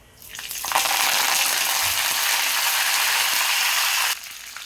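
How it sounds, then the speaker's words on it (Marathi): Washed curry leaves dropped into hot oil for a Marathi dal tadka burst into a loud, sustained sputtering sizzle that starts abruptly, holds steady for about three seconds, then cuts off. "कढीपत्ता थोडा सावकाश टाकायचा, कारण की ते पाण्याने धुतलेला असतो, म्हणून तेलामध्ये जाऊन मग ते असं उडतो"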